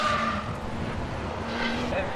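Porsche race car spinning and skidding on the circuit at Zandvoort during a club race: engine and tyre noise swell and fade under loud commentary.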